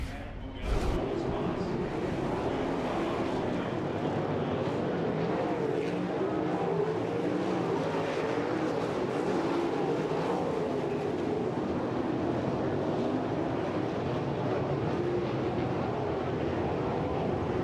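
Sprint cars racing at full speed around a dirt track at River Cities Speedway, a continuous loud engine roar that holds steady throughout, with a sharp burst of noise near the start.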